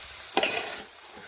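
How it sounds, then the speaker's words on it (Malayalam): A brief scrape of a spoon through a thick curry mixed with thick curd in a pot, for Kerala avial, one clear stroke followed by softer shuffling, close and alone. "നന്നായിട്ടൊന്ന് യോജിപ്പിച്ചെടുക്കാം"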